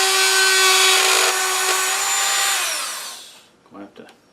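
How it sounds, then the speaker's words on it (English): A Dremel sander whines loudly and steadily while sanding slots in a turned wooden garlic keeper box, then winds down and stops, leaving a few soft handling knocks. "we're going to use a Dremel sander. So we're simply just going to take this and just sand the slot in it,"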